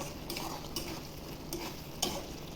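Banana blossom curry thickened with rice flour is stirred in a wok, giving a faint, steady frying hiss with occasional soft scrapes and a small clink near the end, quiet and with no speech.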